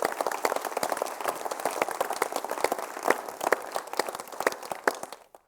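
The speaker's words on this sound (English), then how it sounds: "So applause for Steph" Audience applause for the chair of a debate, a dense burst of many hands clapping steadily for about five seconds before cutting off, with no talk over it.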